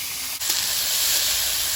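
Cauliflower hits hot oil with whole cumin and dried chilli in a village kitchen pan, sending up a loud, sustained sizzle and hiss that stays even and close throughout after a brief initial clatter.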